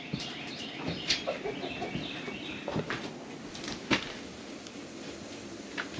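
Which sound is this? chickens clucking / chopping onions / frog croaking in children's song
chickens clucking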